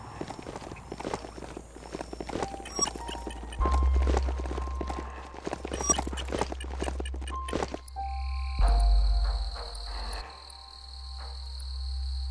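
Hooves of a ridden beast in the Biomutant video game clopping in a steady walking rhythm, moderately close, over a bed of chirping insects and low ambient hum.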